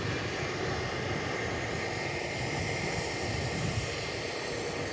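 An Airbus A330neo arriving from Port Louis comes in to land on runway 03 at Perth Airport, giving a steady, moderately distant roar of jet engines and air rush.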